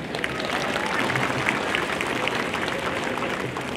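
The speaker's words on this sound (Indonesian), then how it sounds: "Kami mohon tepuk tangan juga ini." Audience applause at the opening ceremony of a human rights festival in Singkawang, a continuous, even patter of many hands clapping from a seated crowd, steady throughout with no voice on top.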